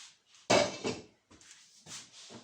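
A pot of freshly steamed rice is uncovered and stirred: a sharp metallic clank of the lid, followed by a few scattered scraping knocks of a utensil against the pot, close and moderately loud in a quiet kitchen.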